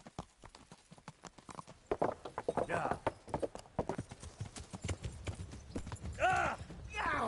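Horse hooves clip-clop steadily in Kingdom Come: Deliverance, a medieval game, with a brief whinny near the end, while someone talks and exclaims over the hoofbeats.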